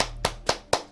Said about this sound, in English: Let me clap it up.